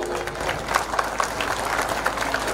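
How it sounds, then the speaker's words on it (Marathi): Crowd at an election rally in Ashti clapping in a dense, continuous wash of applause with scattered sharper claps, steady and fairly loud throughout. "सर्वांनी टाळ्या त्याचा स्वागत करायचं आहे"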